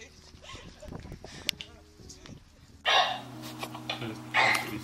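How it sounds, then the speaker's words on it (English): An excited dog greets its owner with whimpers, yips and quick panting breaths, close by, broken by a few bursts of louder rustling and movement. "That dog is excited to see his owner again."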